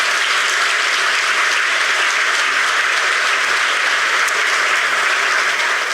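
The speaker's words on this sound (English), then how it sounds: "Let's give him a round of applause." Audience applause fills the room at a sports club's annual dinner, a steady, dense wash of many hands clapping that holds evenly from start to finish with no talk over it.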